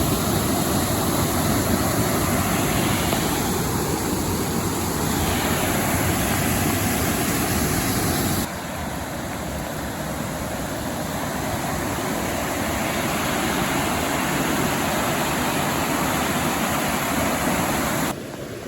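Sweet Creek Falls in Oregon roars as a steady, loud broadband rush of falling water with rain, continuous and unbroken throughout, slightly softer after the midpoint.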